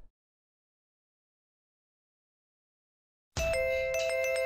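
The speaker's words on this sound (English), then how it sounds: "The doorbell doesn't stop." After a long silence, an electronic doorbell chime from the visual novel Fate/Stay Night suddenly starts ringing, bright and tonal with repeated strikes, sounding close and loud.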